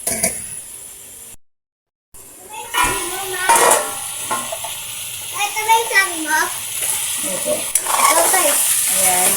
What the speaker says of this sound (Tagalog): gisang-gisa na yung ating chicken